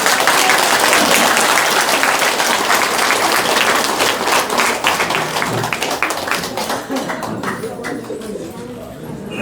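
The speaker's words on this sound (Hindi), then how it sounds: "चलिए एक बार जोर से ताली बजाओ एक बार।" Loud clapping from a crowd at a free health camp event, dense and sustained before thinning toward the end, with a voice speaking over it.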